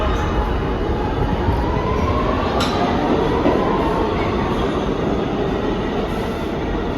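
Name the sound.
subway train departing platform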